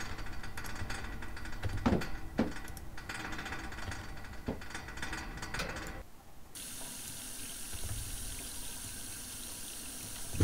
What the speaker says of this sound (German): Dampf, das heißt Wasser anmachen.